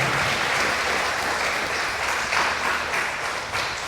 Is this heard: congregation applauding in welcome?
yes